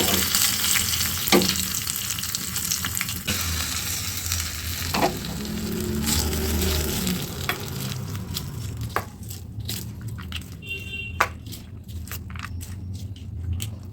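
Curry leaves hitting hot oil for a tempering in Telugu-style vadapappu cooking give a loud, continuous crackling sizzle with sharp pops and stirring scrapes, steady and close throughout.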